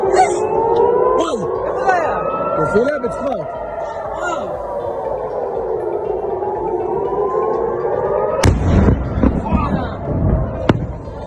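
A missile strike in Israel: long wailing siren tones rise and fall, then a sudden loud blast breaks in, followed by rumbling and clattering debris.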